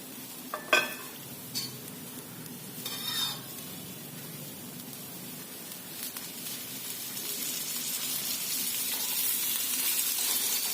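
Bitter gourd slices fry in a spoonful of oil in a pan over medium heat, a soft, steady sizzle that grows slightly toward the end, broken early by a few stirring scrapes and clinks, no voices.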